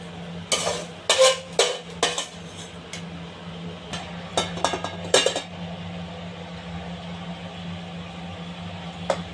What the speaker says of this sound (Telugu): ఈ వేపిన కొబ్బరి పొడిని మళ్ళీ ఈ ప్లేట్లోకి ట్రాన్స్ఫర్ చేసుకుంటా ఉన్నాను ఫ్రెండ్స్